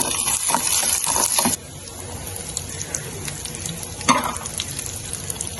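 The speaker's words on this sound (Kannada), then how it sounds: "ಈಗ ಮನೆಯಲ್ಲೇ ಮಾಡಿರೋ ತುಪ್ಪ ಹಾಕ್ತಿರೋದು" Homemade ghee sizzles and crackles steadily in a pan while making carrot payasa, louder and brighter for the first second and a half, then a softer continuous fry with a brief stir or clatter near the end.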